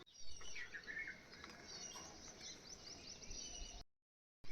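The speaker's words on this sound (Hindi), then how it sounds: "और चिड़ियों की चुचुहाट" Small birds chirp and tweet in short scattered calls at a home garden around 6:45 in the morning, faint and somewhat distant over a steady background hiss, with no talking.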